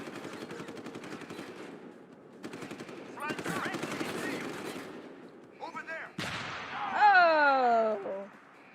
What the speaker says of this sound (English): Nope, that is a turret.